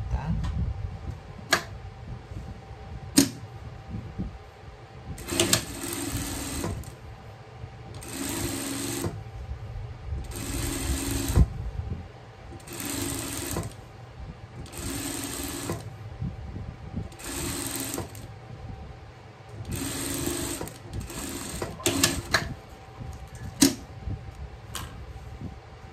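An electric sewing machine stitches a folded hem on a small fabric pet garment, running in repeated short bursts of rapid close whirring, separated by pauses with low background noise.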